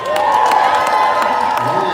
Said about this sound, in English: Can we get a big round of applause for our dinosaur today?